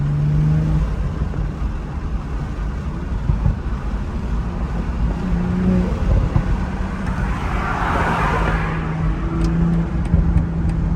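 A 2020 BMW M340i xDrive heard from inside while driving, with a loud, steady engine and intake drone, heavy road and wind noise, and a brief rising surge near the end, no talking.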